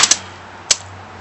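Alpha Black paintball gun fired outdoors at a tree: two quick sharp pops, then a third shot after a short pause, each crisp and close with a low hum between.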